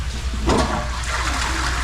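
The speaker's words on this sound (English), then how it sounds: "we want to flush every toilet" A toilet flushing during cleanup after a blocked sewer was cleared, a steady close rush of water with a brief surge near the middle, no voices.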